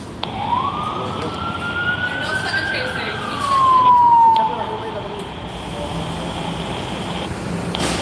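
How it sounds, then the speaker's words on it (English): An ambulance siren wails in a long rising then falling sweep, distant at first and growing louder, over steady New York City traffic noise. "Where's that ambulance?"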